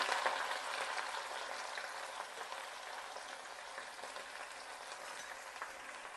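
Garlic, ginger, green chilli, shallots and onions fry in oil for a Kerala-style beef biryani, a steady broadband sizzle that stays close and even throughout, with no talk.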